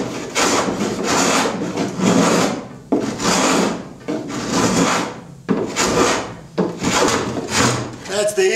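A hand plane shaves a wooden bevel on a proa boat hull in long, loud, rasping strokes, repeated about eight times at close range.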